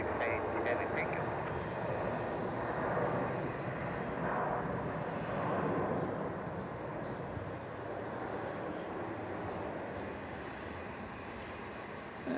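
A heavy Turkish Airlines airliner landing on runway 34 at Melbourne Airport at night, a steady broadband engine roar held for the whole stretch at a distance, with faint radio talk.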